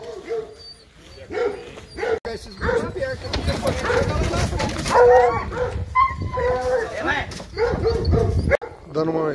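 Hunting dogs bark and whimper in the bush before a hunt, a steady run of overlapping barks and yips at close to mid distance, with people talking over them throughout.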